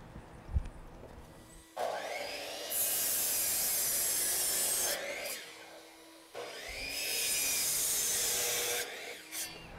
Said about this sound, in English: Go ahead and make a fresh cut, get my measurement, and cut my 4 pieces down to size.